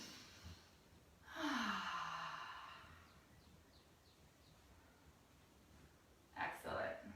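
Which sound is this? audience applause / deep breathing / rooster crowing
deep breathing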